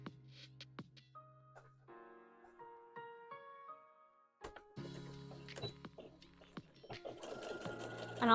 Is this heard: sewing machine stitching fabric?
yes